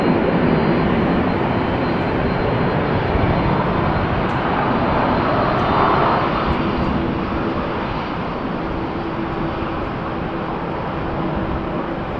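Loud, steady roar of airliner jet engines close by during pushback at Amsterdam Schiphol Airport, a broad continuous rumble that swells slightly as the plane turns, then holds, with no talking.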